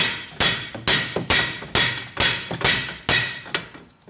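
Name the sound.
hitting steering knuckle on cast iron to loosen ball joint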